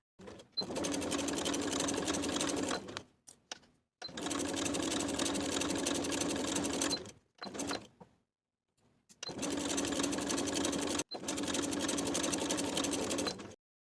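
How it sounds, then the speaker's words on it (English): A sewing machine edge stitches a pocket seam on a lined coat in four close, steady bursts separated by short silent pauses, with a couple of brief taps in between. "We're going to edge stitch that straight edge of the pocket along the seam line from top to bottom"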